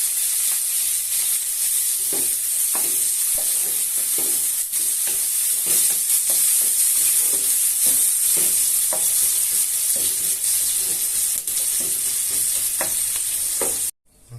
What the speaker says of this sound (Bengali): এখন আমি একটু পেঁয়াজ বেরেস্তা করে নেব।